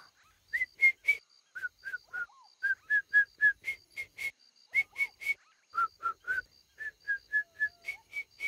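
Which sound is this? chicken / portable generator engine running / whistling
whistling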